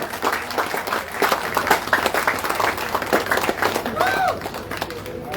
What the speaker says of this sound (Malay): Beri tepukan yang gemuruh